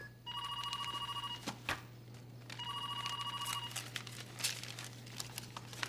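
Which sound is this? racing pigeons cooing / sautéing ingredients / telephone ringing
telephone ringing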